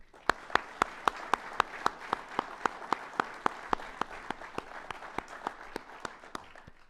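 A hall of fame ceremony hall where a lone pair of hands claps in a regular rhythm, about two dozen sharp claps that slowly fade, over faint crowd clapping behind.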